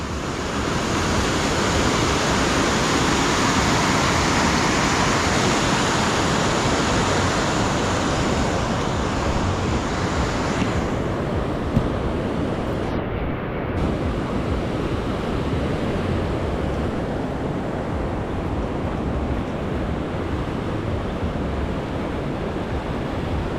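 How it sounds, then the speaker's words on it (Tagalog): Swollen floodwater from the Sierra Madre mountains races past a wrecked bridge, a loud, unbroken roar of rushing current that holds steady throughout with no pauses. "Sobrang laki naman ng agos"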